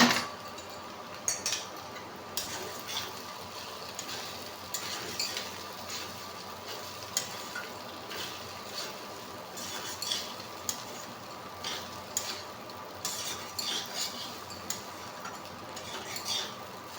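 Potatoes and poha are fried and stirred in a pan in an Indian home kitchen, with scattered light clinks and scrapes of a utensil against metal over a soft steady background, and no voices.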